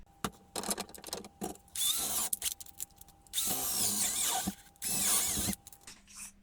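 A power drill whirs in several short bursts, with brief pauses between each run as it bores a 3.5 mm hole, part of a hydraulic conversion on a Volvo EC550 excavator.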